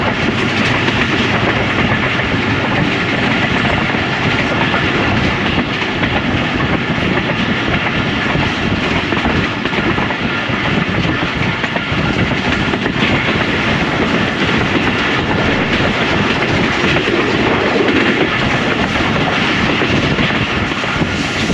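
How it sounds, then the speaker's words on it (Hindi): A train rumbles steadily into the yard of Kaluwal railway station on the single-line Lahore to Rawalpindi route, with rhythmic clattering of wheels over rail joints, loud and close, continuous throughout with no voices. "ट्रेन हमारी कालूवाल रेलवे स्टेशन के यार्ड में दाखिल हो चुकी है"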